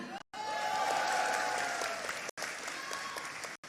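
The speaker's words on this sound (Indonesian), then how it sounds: "Tepuk tangan." A crowd applauds steadily, dense clapping filling the space, with brief cuts in the sound.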